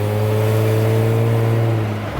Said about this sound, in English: Just give it a little bit of pedal, man, and it downshifts and goes for it for sure.